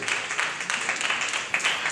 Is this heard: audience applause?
yes